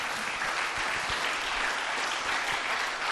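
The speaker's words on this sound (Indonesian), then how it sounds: "Berikan tepuk tangan bagi Tuhan kita." A church congregation at a youth Christmas service applauds in a dense, steady wash of clapping that holds evenly for about three seconds, with no voices over it.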